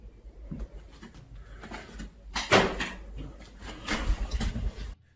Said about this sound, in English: Somewhere nearby, a door closes all by itself